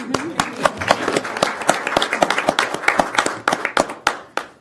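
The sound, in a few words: applause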